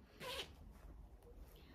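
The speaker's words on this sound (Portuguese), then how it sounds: "Deixa eu fechar aqui o zíper." A dress zipper is pulled closed in one quick, close rasp, followed by faint room noise.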